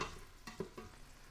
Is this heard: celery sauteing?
yes